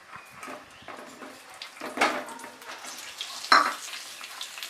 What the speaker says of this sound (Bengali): এরপরে আমি ওই তেলেই পটলগুলোকে ভেজে নেব।